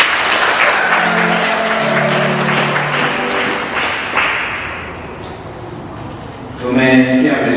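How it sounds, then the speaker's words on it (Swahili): At a church wedding, the guests applaud together in a burst of clapping that builds and then fades. A voice follows near the end. "Tuwapigie makofi."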